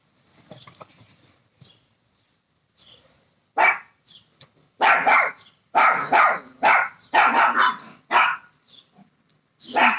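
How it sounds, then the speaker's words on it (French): Dogs bark in loud repeated bursts, some in quick clusters, after a quieter stretch of soft rustling and faint distant sounds; the barking sounds fairly close and dominates the latter half. "J'espère que les chiens vont arrêter d'aboyer"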